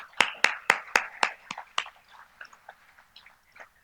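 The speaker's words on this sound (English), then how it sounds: "A round of applause, please." Hands clap at an anniversary cocktails and award ceremony, a burst of sharp, close claps that thins out into scattered, softer claps as it fades.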